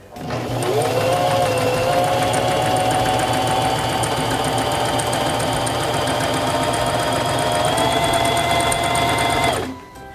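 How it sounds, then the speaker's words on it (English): A Singer Simple 3232 sewing machine stitches a test piece of fabric, its motor whirring up quickly and holding a steady, close, rapid mechanical chatter for several seconds before stopping abruptly. "press your foot control to begin sewing"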